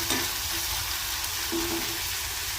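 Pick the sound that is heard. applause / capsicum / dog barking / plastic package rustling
capsicum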